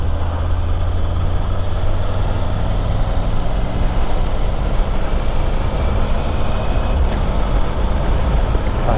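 Steady loud wind roar and low engine drone from a motorcycle ridden with the helmet visor open on a road in the Netherlands, recorded on a GoPro Hero 13, continuous broadband rushing with no speech.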